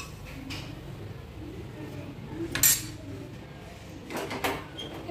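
A pot of lentil dal is set down on a home kitchen stove, giving a couple of brief metallic clanks and clatters against low background kitchen noise.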